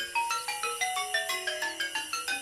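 A melodic electronic telephone ringtone set inside a children's nursery rhyme, a bright repeating pattern of synthesized notes that pulses steadily and loudly with no voices over it.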